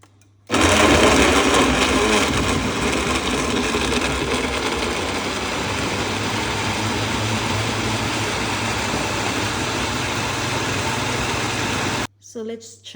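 A blender whirs loudly and steadily while mixing a mixed-fruit smoothie, starting abruptly and holding a constant motor drone for about eleven seconds before cutting off.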